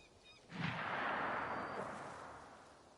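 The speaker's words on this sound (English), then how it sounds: "that was a gunshot" A single gunshot in Assassin's Creed Shadows bursts out sharply, then rolls off in a broad, fading echo over a couple of seconds, with no talk.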